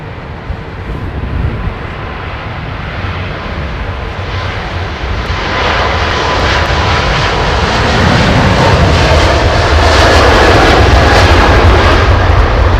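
Jet engines of an American Airlines airliner spool up to takeoff thrust, a loud, close, broadband roar that builds and holds steady throughout.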